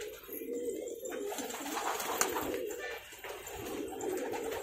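Desi pigeons of the bandum type, females included, coo in a steady low murmur that runs throughout, with faint bird calls overhead and an occasional soft knock, recorded close up in a loft.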